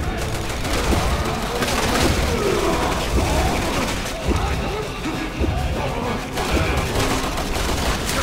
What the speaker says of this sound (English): I'm shooting grenades.